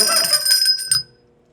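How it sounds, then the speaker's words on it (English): A small bell rung to call for a drink gives a few bright metallic rings close by, the last strike decaying quickly into quiet, with no speech. "Oh no, it's a new bell."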